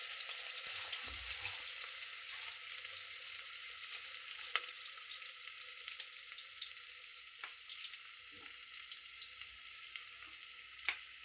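Onion sizzles in hot oil with cumin and mustard seeds, a steady, quiet hiss that holds evenly throughout with a few faint pops and ticks and no voices.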